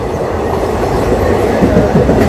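Loud, close rolling rumble and rhythmic clatter of a DEMU passenger train travelling from Penukonda toward Anantapur, steady and continuous with no voices.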